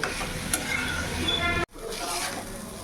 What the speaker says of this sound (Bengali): এবার ভেজে রাখা ওল, কচু, আলু সব দিয়ে দিলাম। এবার ভালো করে আমি সব কিছু একসাথে মিশিয়ে আমি কষিয়ে নেব।